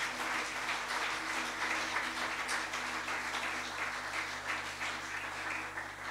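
Congregation applauding in a church, a steady wash of clapping from many hands sustained throughout at moderate distance, with no clear voices rising above it.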